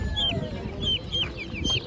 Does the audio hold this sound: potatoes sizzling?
no